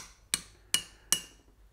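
A hammer taps on the jaws of a machine while working on an orbital motor: three light, bright metallic taps at an even pace, close and crisp, with no talking.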